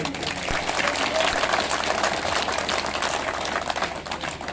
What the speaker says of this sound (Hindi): जबरदस्त तालियां बजाइए